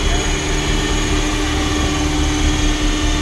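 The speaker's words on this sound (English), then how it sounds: "Here's the helicopter right there." A steady, droning engine roar of a Hughes 500MD helicopter flying, loud and continuous with a constant mechanical hum throughout.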